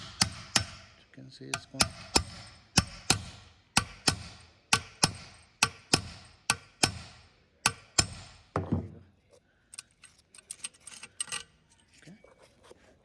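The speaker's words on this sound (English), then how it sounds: "we're gonna just use our hammer" Repeated hammer blows drive an alternator bolt into place on a Ford F-150 with the 3.7 engine, about a dozen sharp metallic strikes in a steady rhythm, close and loud, followed by lighter clatter and a brief spoken remark.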